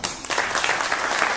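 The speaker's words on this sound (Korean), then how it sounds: "김황식 총리님을 모실 때 큰 박수로 맞아주시기 바랍니다" Applause from a breakfast forum audience welcoming Prime Minister Kim Hwang-sik, a dense steady wash of clapping that stays loud and even throughout with no voices over it.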